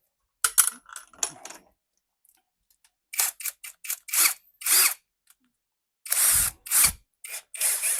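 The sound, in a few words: power drill drilling a pivot point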